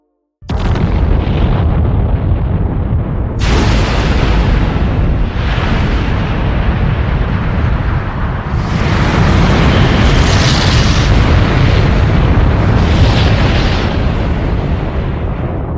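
Carefully planned explosions in the anime Zankyou no Terror: a sudden loud blast opens a long roaring wall of noise, with further booming bursts swelling through it, close and overwhelming throughout.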